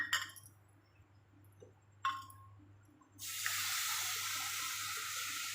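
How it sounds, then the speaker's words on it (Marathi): Water pours from a vessel into a gram flour and chilli mixture, first with a couple of faint clinks, then as a steady, close splashing stream with no talk. "पाणी थोडंसं टाकायचं"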